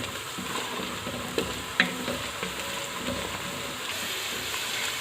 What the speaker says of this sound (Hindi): हमारी हो रही है फ्राई।